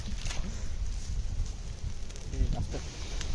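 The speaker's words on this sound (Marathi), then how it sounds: "आग लावून घेतले" A village fire lit beneath a metal sheet to roast tandoori chicken and fish gives a steady low crackling roar with faint rustling. It runs close and continuous throughout.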